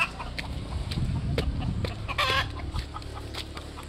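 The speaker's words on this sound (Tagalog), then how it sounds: "Maraming manok." A flock of backyard chickens clucks steadily on a hot day, a busy layered chorus of hen calls with one brief louder burst of squawking partway through, close and continuous with no talk.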